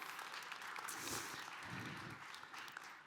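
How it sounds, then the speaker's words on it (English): A small audience at a talk on AI automation claps on request, a faint, quiet patter of hands that continues evenly for about three seconds. "So can you clap?"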